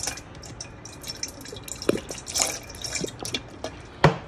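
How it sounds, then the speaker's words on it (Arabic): Salt-free natural soy sauce poured into a small cup, heard as close, soft trickling and dripping with a few clearer splashes, no voices. "انا هحط مقدار كوباية صغيرة منه."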